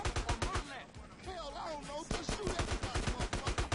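Rapid gunfire in the video game GTA San Andreas, bursts of sharp shots in quick succession, loud and close, with a short calmer stretch in the middle where a voice talks.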